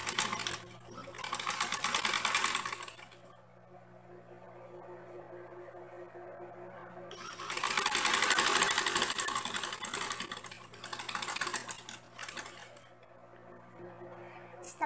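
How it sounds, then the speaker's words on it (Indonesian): A sewing machine stitches a fabric holder for a hand sanitizer bottle, running in two loud bursts of several seconds each separated by quieter pauses, with no talking. "Setelah itu kita jahit."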